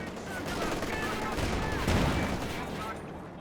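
Gunfire in a Company of Heroes 2 match: dense, rolling shots and distant bursts make a continuous battle din, with a commentator talking over it.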